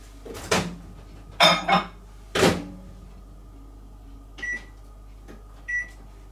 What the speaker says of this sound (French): On va les mettre au micro-ondes pour qu'ils fondent entre tous les deux